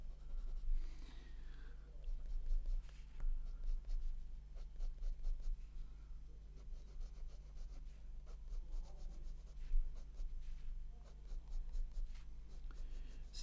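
Pigment is drawn onto paper with the palm resting on and smudging the sheet, producing faint, close, soft scratching and rubbing strokes in irregular bursts over a low steady hum.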